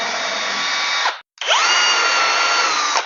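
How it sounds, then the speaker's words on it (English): A cordless power drill bores hinge holes in a wooden cabinet frame: two close, loud bursts of high whirring, each slowing at the end, with a short pause between them. "So now we have the frame drilled out"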